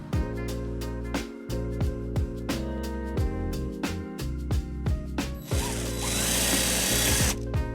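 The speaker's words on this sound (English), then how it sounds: "first we'll go ahead and drill a hole on the right side and put our bolt in and tighten the nut" A power drill bores a hole on a 2015 Nissan Sentra for a trailer wiring bracket, then ratchets the bolt tight, with rhythmic clicks and whirring bursts, close and loud, followed by a sustained hiss.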